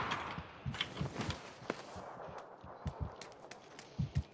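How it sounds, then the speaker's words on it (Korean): Footsteps on the ground in the battle-royale shooter PUBG, a scattered series of soft, irregular thuds at moderate distance with a few sharper knocks, set against quiet ambient game noise. "발소리."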